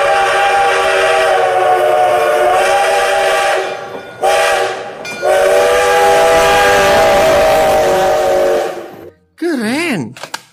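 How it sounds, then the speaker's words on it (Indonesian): A toy train whistle blows in long, loud bursts with brief gaps, ending in a wavering, warbling whistle tone. "Wah, kereta api."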